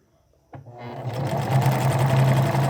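A sewing machine starts up and stitches fabric along the edge of the presser foot, a close, steady mechanical whir with a rapid rhythmic chatter, sewing a basic skirt.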